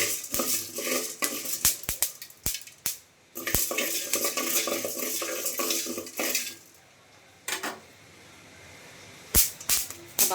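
A spoon stirs khesari dal with nuts as they dry-roast in a pan, sharp scraping and clinking strokes in quick bursts with a faint sizzle, pausing briefly before the stirring starts again.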